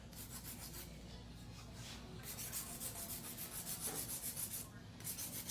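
A hand file rasping across an acrylic nail in steady, rapid back-and-forth strokes, close and fairly quiet, continuing without pause and with no voices.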